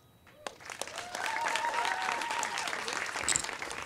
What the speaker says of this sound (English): Another round of applause for the leadership of Mayor London Breed.